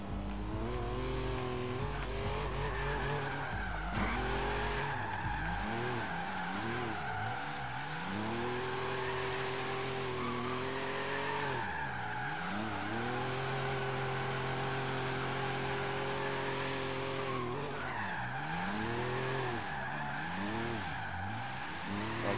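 A GMC Cyclone truck in Forza Horizon 3 slides through turns, its engine revving and dropping in repeated sweeping pitch swings under a steady loud roar, with tire skid noise layered throughout.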